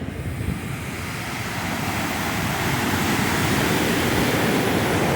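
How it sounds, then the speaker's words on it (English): Ocean waves wash steadily onto a beach in a continuous broad roar, with gusts of wind buffeting the microphone. "Listen to them waves."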